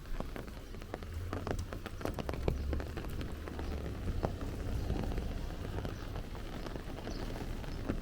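Steady rain patters on a Bensonhurst street in Brooklyn while someone walks through it, a dense, constant hiss of drops with scattered louder splashes, fairly close and without talking.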